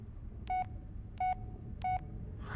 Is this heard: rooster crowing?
no